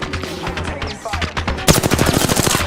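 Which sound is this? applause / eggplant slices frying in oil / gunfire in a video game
gunfire in a video game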